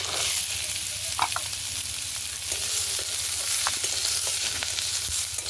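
Chopped onion, carrots, peas and cauliflower fry in oil in a pan, a constant close sizzle broken by occasional scraping stirs, with no one talking.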